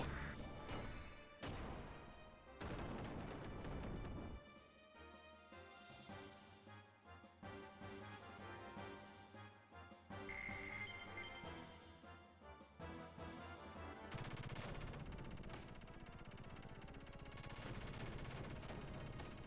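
Gunfire and crashing impacts from the video game Xenogears, sharp bursts layered into a dense, continuous game soundtrack with music running throughout.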